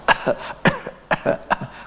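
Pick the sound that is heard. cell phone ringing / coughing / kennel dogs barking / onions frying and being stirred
coughing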